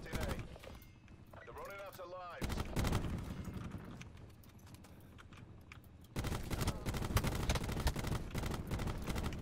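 Rifle fire rattles in quick bursts in Call of Duty Black Ops 4, sharp repeated shots at close range mixed with game effects, with a player's voice talking over parts of it.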